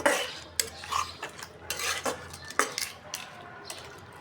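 Chickpea dal being stirred and sautéed in a pot, with a spoon scraping and clinking against the pot in irregular strokes, fairly close and moderately loud, with no voice.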